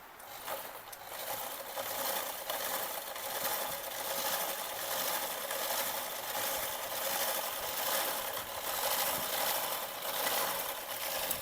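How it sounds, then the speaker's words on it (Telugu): A sewing machine stitches a blouse with a steady, rapid mechanical whir and rhythmic clatter that pulses evenly throughout, close and fairly loud, with no voices. "ఇలా కుట్టుకుంటూ వెళ్ళాలి."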